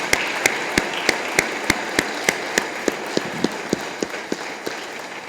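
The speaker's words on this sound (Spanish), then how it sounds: "Un aplauso a Cristo." A crowd at a religious festival honoring Christ claps in a steady, evenly spaced rhythm, with sharp, regular beats over a background murmur.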